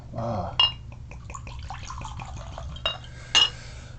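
Beer with a porter-like chocolate and caramel character poured into a glass, showing a golden color: soft liquid splashing with a few sharp glass clinks, close and fairly quiet.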